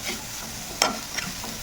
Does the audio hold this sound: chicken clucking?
no